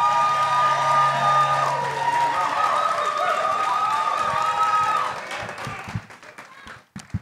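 Audience at a provincial by-election candidates' debate in Nanaimo cheering and applauding, a dense sustained roar of claps and voices that fades after about five seconds into scattered claps.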